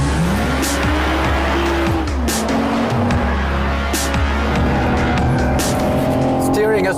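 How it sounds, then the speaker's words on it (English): A new BMW 4 Series Coupé oversteers on a test drive, its tires squealing loudly and continuously over the steady roar of the engine. Someone talks over it. "here you see a little bit of oversteering"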